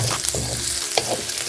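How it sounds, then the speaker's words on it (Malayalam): Chopped capsicum roasting over a high flame in a pan, a loud, dense sizzle broken by a few quick scrapes and stirs, with no voices. "നമുക്കിതിലേക്ക് അരിഞ്ഞ് വെച്ച ക്യാപ്സിക്കം ഇട്ട് നല്ല ഹൈ ഫ്ലെയിമിലിട്ട് ഒന്ന് റോസ്റ്റ് ചെയ്തെടുക്കാം"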